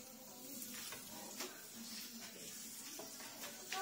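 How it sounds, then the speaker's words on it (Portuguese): Butter melting in a pan gives a faint, steady sizzle, with occasional soft scrapes as it is stirred with a utensil. "deixa a manteiga dissolver"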